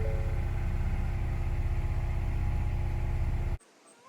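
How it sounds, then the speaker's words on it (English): Ford Edge ST engine running at a steady idle, a close, even low rumble that cuts off abruptly near the end, leaving quiet background. "when you start your car"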